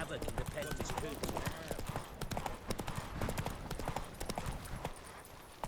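Horse hooves clip-clopping at a steady trot in The Witcher 3 video game, a rapid close rhythm of hoof strikes with a voice speaking over them.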